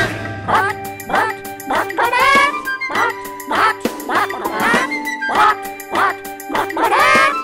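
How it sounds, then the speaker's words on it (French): Repeated nasal quacking from several ducks in bursts, fairly loud and close, with a light tinkling sound and steady background tones underneath. "Il y a même des canards qui barbotent dans la main."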